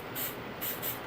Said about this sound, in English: I'm going to spray it.